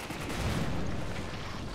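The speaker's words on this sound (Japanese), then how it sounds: "おお、爆発した。" A video game explosion in Resident Evil 5 comes as a dense, roaring blast with crackling gunfire-like rumble, loud and sustained for its whole length, with no talk over it.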